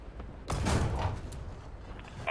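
Single heavy cannon shot from an M-51 Super Sherman tank in War Thunder, a sudden loud blast with a rumbling decay, followed by a faint mechanical clunk at the end.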